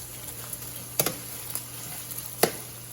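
Food being stirred in a hot pan with salt and spices, a soft steady sizzle broken by a few sharp scrapes and taps of the utensil against the pan.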